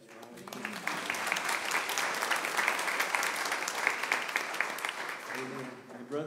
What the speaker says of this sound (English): I just want you to give the Lord another hand clap of praise for all of you.